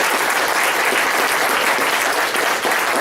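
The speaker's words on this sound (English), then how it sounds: "I think we should close up and give Bob an applause" Seminar audience applauding at the close of a talk, steady dense clapping throughout, loud and sustained.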